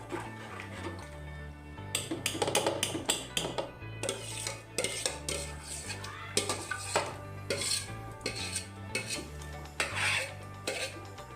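A metal spoon stirs and scrapes thick sabudana papad batter in a cooking pot, making repeated clinking and scraping strokes over a low, steady hum. There is no talking.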